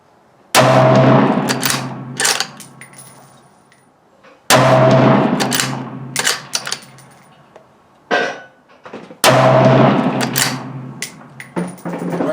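Three loud rifle shots from a Ruger American Ranch in 7.62x39 firing 123-grain ammunition at a range, each a sharp close crack with a ringing tail and clattering echoes, spaced about four seconds apart.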